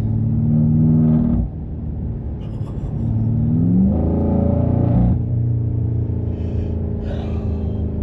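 2018 BMW M5 with its twin-turbo V8 revs and accelerates close by, a loud engine rumble rising and falling in pitch across several surges.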